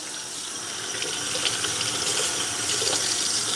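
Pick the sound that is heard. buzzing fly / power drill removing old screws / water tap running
water tap running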